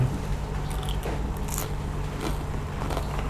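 Close crunchy bites into crisp fried batter of Thai fried mussel pancake, with crackling chews over a steady low background hum.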